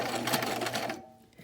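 A sewing machine stitching a duck cloth face mask runs in a steady, rapid whir for about a second, then stops and leaves a faint, quiet tail.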